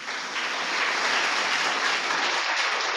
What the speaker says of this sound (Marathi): पुन्हा एकदा स्वर्धासाठी जोरदार टाळ्या